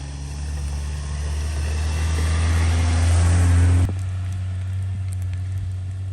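A small bush Jeep fitted with a snow plow drives through heavy snow, its engine droning steadily and swelling a little before the sound abruptly drops to a lower, quieter hum.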